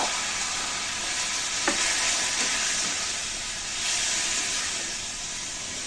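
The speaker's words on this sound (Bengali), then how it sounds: "আমি এখন দিয়ে দিচ্ছি মোচা, সিদ্ধ করে রাখা মোচা দিয়ে দিলাম।" Boiled banana flower frying in an oil-and-turmeric pan: a steady, moderate hiss and sizzle with a couple of faint stirring scrapes, no voices.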